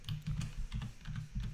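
Steady, quiet tapping on a computer keyboard, with a fast, even rhythm of keystrokes heard close up and alone, with no voices.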